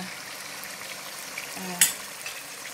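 Salmon fries in a pan with a soft, steady sizzle while spices and turmeric go in, and a few clinks and small bright taps of utensil against pan stand out briefly near the middle.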